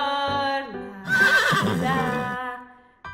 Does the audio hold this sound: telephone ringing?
no